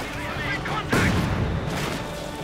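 Mortar fire in Company of Heroes 2 during a 2v2 match, one sharp boom near the middle with a noisy rumbling tail over busy battle ambience.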